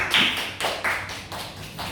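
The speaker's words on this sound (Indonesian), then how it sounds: "Tepuk tangan untuk kelompok kuning" A few separate, fairly close claps ring out in a classroom during a teaching session, as a small group is applauded, with short gaps between the bursts and no talking.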